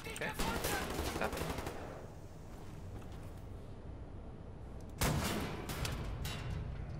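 Dense gunfire with bullets ricocheting off surfaces in Wolfenstein: The New Order, loud volleys at the start that thin to a rumbling lull before another heavy burst.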